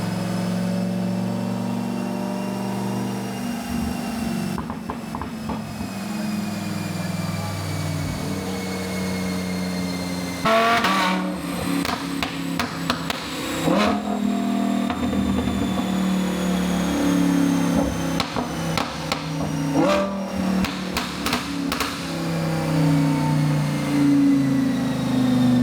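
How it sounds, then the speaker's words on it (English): A supercharged Lamborghini Huracan EVO strapped to an all-wheel-drive dyno, its engine droning at steady load before sharp, repeated revs and throttle blips build loud and close, with no talking. "we put the Huracan on the dyno."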